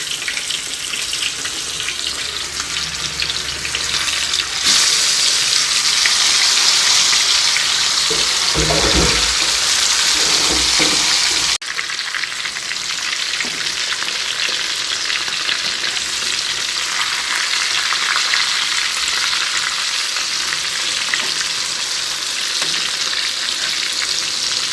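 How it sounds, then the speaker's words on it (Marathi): Bangdya, ring-shaped snacks, deep-frying in hot oil make a loud, continuous sizzle and crackle. A burst of running-water-like hiss comes midway, and the frying carries on steadily afterward. "तेल तापलंय, बांगड्या आहेत आता हे फ्राय करून घेते."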